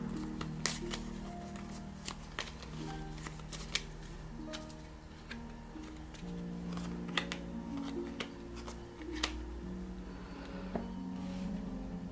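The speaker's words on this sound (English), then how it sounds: "Let's shuffle this over here." Cards being shuffled close up, with repeated riffling bursts and sharp snapping clicks over a steady low hum, no voices.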